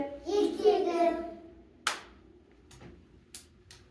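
A voice is heard briefly, then a few sharp, close hand claps sound out one at a time with pauses between them, set in a quiet classroom.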